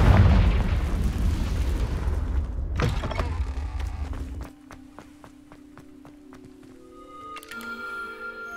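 A Confringo blasting spell in Hogwarts Legacy erupts in a loud, roaring explosion that rumbles for several seconds, then cuts to a quieter scene with faint clicks and a soft tone.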